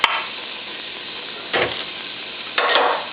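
Two diced onions fry in butter in a pan over medium-high heat, giving a steady close sizzle broken by two louder bursts of stirring.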